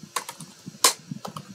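Bursts of keystrokes on a computer keyboard, typed in short irregular runs with one sharper, louder key hit midway, close and dry with no talking.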